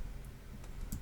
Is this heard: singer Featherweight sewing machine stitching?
no